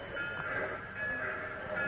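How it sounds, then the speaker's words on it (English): A steady rumbling train sound effect from an old-time radio drama, a continuous droning roll with a faint whistle-like hum running through it, loud and close for the whole stretch. "Yes, the train."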